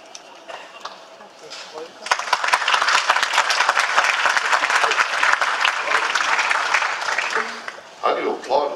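Applause from an audience breaks out after a quiet start, swelling into loud, dense clapping that runs for several seconds before dropping off, followed by a voice speaking.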